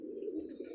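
A pigeon coos once, low and soft, close by, in a brief, quiet moment with no talk.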